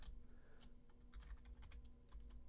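Fingers tap out a search query on a computer keyboard in quick, irregular clicks, close but fairly quiet over a low background hum, with nobody talking.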